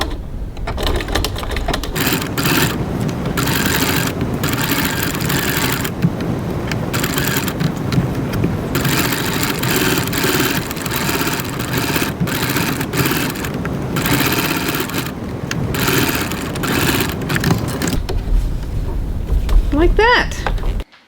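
Steady machine whirr of a sewing machine stitching a lining about 3 mm (1/8 inch) from the edge, running continuously and fairly loud for most of the stretch with brief pauses and low rumble.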